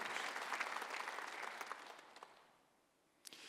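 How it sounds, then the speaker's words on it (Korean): A church congregation at a Korean Sunday worship service bursts into full applause, many hands clapping loudly before tapering off into near quiet, with a few scattered claps at the end. "박수 하나 둘 셋."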